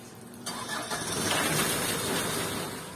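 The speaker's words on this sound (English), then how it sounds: "Then start the engine." A diesel vehicle engine, after a water decarbonizing treatment of the engine and exhaust, cranks and catches about half a second in. It then settles into a loud, steady running rumble close by.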